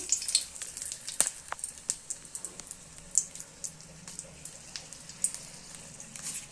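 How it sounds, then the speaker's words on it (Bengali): Dried red chillies sizzle and crackle in hot oil for a tempering, a steady close hiss broken by scattered sharp pops, with no talking. "ফোড়নের জন্য আমি এখানে শুকনো লঙ্কা দিয়ে দিলাম"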